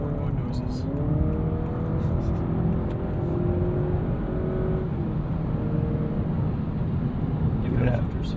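A 2025 Honda Accord Hybrid in sport mode gives a steady engine drone with rising synthetic tones sweeping upward, heard from inside the cabin while people talk over it.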